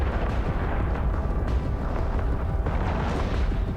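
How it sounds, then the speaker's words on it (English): Dense, continuous rumble of gunfire and weapon effects from a large EVE Online fleet battle in the video game, steady and loud throughout with overlapping booms and bursts and no clear breaks. "There's lots of gunfire and status effects and beams and all kinds of stuff going on."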